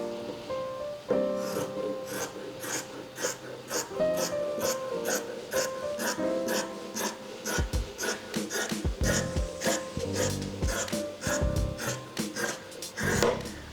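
A sewing machine runs a zigzag stitch along a cardigan seam in bursts, with rapid rhythmic mechanical clatter and brief pauses between runs, close and fairly clear.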